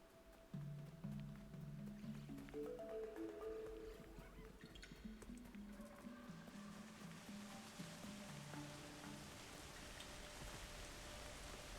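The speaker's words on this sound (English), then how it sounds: "it just starts torrentially downpouring." Torrential rain in Kena: Bridge of Spirits: a steady, hissing downpour swells in beneath soft tonal game music and settles into a dense, continuous wash of falling water.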